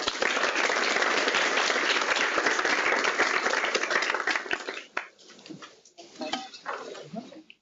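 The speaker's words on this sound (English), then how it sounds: "So let's give Chris another round of applause." Audience applause for a speaker at a spring academic symposium session, loud and dense for about five seconds, then thinning into scattered claps and room noise as it dies away.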